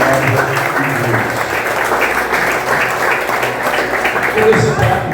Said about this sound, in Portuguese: Vamos aplaudir e gloriar a palavra de Deus.